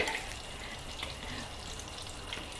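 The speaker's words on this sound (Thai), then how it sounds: "ทอดแบบไข่เจียวธรรมดานี่แหละ ดีที่สุด" Thai omelette (khai jiao) frying in oil over medium heat, a steady close sizzle and crackle with faint bubbling pops, no voices.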